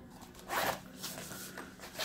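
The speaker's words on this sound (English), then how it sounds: "Zip it up time." A zipper on a lightweight case for a solar-powered phone panel is pulled shut in a few quick, rasping strokes, close up and fairly quiet, with no talking.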